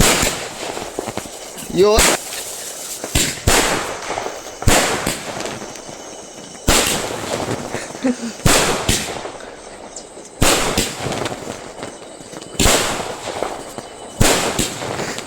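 Firecrackers on a Diwali night: a fifteen-shot firework fires a rapid series of loud, sharp bursts in quick succession with brief gaps, the booms close and dominating, and a voice briefly speaks between shots.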